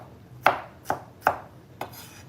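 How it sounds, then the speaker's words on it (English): Four sharp knife strikes on a cutting board as vegetables are chopped for a meatball pasta sauce, evenly spaced and close, with no talking. "I'm saying this as I am chopping"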